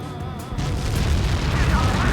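A missile strikes in the Ace Combat 7 jet combat game, setting off a heavy, booming explosion that swells into a sustained, loud rumbling roar.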